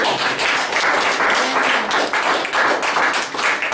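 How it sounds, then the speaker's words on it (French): A church congregation bursts into sustained applause acclaiming the Lord during a French-language sermon, a dense, steady clapping that fills the room at close range with no voices rising above it. "Acclamation pour le Seigneur"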